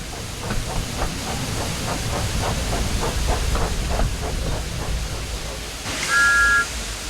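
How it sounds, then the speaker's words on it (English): A cartoon steam engine from the Sodor railway gives a short, bright whistle near the end, after a rhythmic chugging and clatter of wheels on track with a steady hiss of steam. "Thomas likes whistling cheekily at him."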